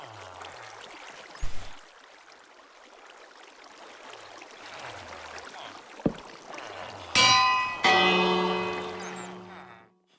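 A Minecraft village bell rings twice in quick succession near the end, bright and resonant with a long sustaining tone, after a stretch of low ambient noise with a couple of brief knocks.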